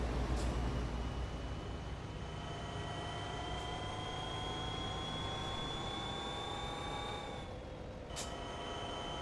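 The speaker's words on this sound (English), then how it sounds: "Listen to that electric turbo whine." A rising electric turbo whine sings from an electric truck with a Cummins engine in American Truck Simulator, a steady tonal whistle climbing in pitch over a constant engine rumble, with brief clicks and no talking.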